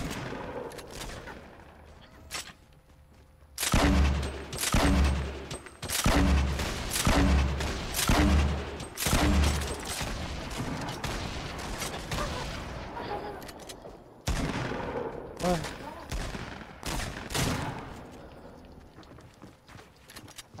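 Fortnite gunfire comes as a string of loud, rhythmic shots in close succession, then scattered sharper bursts, with excited talk from players over and between the shots.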